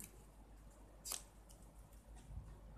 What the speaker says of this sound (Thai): แล้วก็ตัดเทปใส